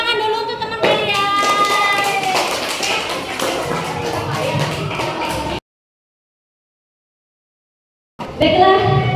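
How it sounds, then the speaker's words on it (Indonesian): Children in a classroom clapping together for a classmate, a dense patter of many hands with a voice singing or chanting over it, then a sudden silence before clapping and voices resume. "Tepuk tangan dulu untuk teman kalian."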